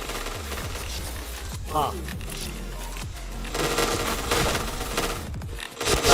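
Bursts of gunfire in the Point Blank video game, rapid rattling volleys over a busy game soundtrack, with people talking intermittently throughout.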